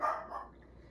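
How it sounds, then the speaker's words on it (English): A dog barks once or twice across the street, a short, moderately faint outdoor sound that fades into quiet background. "I hear a dog."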